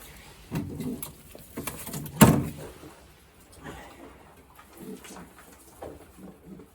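Racing pigeons coo softly in a loft in low, murmuring bursts, with one sharp knock or click partway through and quiet handling noises around it.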